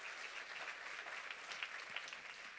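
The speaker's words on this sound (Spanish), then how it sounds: "Denle un aplauso al Señor." Applause from a church congregation honoring the Lord during a Spanish-language service. Steady, fairly faint clapping fills the whole moment with no talking over it.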